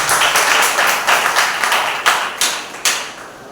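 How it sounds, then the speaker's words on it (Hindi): A church congregation at a Sunday service applauds the worship team with dense, loud clapping that swells in waves and stays strong throughout. "क्यों ना हम आराधना टीम के लिए ताली बजाए जोर से।"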